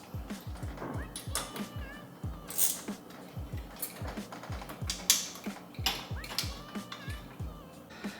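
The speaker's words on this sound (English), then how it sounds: "I'm gonna put in the new hose clamps. Just finessing the hose clamps." Hose clamps being tightened on a titanium turbo inlet of a Honda Type R, giving a steady run of quiet, close ratcheting clicks in quick bursts, with faint creaks and small handling noises between them.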